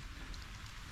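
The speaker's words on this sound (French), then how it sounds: "Vraiment une toute petite pluie passagère." Light passing rain shower over a river with chocolate-brown, fast current, a steady soft patter and hiss filling the short moment at close range with no voices.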